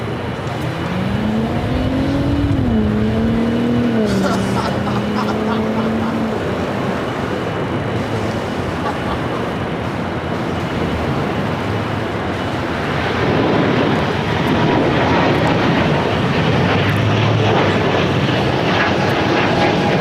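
Airbus A318 airliner lining up on the runway at LAX, its jet engines whining with a rising then steady tone before a broad roaring rumble swells in, heard from a distance with wind buffeting the microphone.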